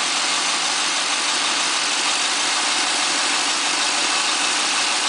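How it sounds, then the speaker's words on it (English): A 2010 Camaro V8 with a Vararam intake idling cold just after start-up, a steady, close, unbroken engine rumble with no talk. "we just started it up. And the idle seems to be mint"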